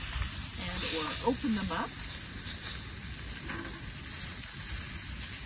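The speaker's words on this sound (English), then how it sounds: "The pork chops are starting to look delicious. I just took a little peek and there's some searing action going on" Pork chops sear over a campfire in a pot, giving a steady broadband sizzle and hiss throughout, with someone briefly talking over it near the start.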